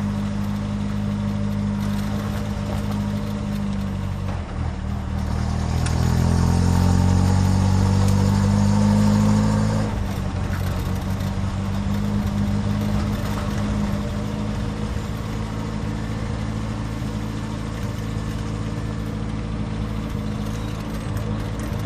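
An MG Midget's small engine hums steadily while driving along country lanes, a continuous low drone that swells briefly as the car accelerates mid-way, then settles back into an even cruise.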